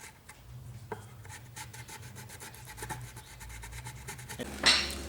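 Fine 400-grit sandpaper rasps along the sides of metal guitar frets on a timber neck in steady short strokes, close and fairly quiet, ending in a brighter scrape.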